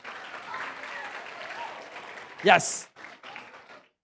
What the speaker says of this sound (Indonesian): Boleh tepuk tangan Bapak Ibu?